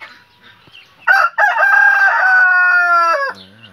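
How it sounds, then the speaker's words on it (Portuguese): A rooster kept apart from the hens crows once, loud and close, a long ringing call that rises, holds and drops off, with a few soft clucks before and after. "Aqui é um galo que está separado, tá?"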